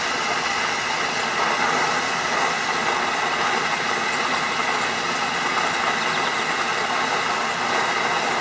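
A camping stove burner roars steadily after lighting, a dense, continuous broadband rush that holds at a constant level throughout with no breaks and no talking.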